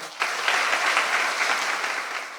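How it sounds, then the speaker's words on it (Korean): Steady applause from a church festival audience, dense clapping that swells quickly and holds at an even level. "박수 한번 쳐주세요."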